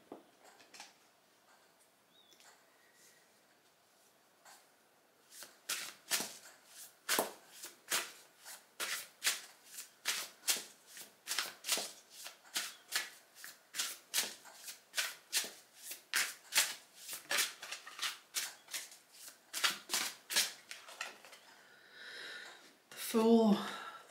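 Tarot cards being shuffled by hand, a rapid run of crisp riffling flicks that starts faint and builds into steady, close bursts, ending in a louder rustle.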